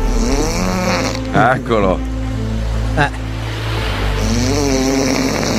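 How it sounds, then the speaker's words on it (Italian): Loud, rasping snoring from a creature in a comedy sketch, deep drawn-out breaths repeating close up, with a short spoken word between them. "il rumore prodotto dalle inumane cavità respiratorie del Noisis"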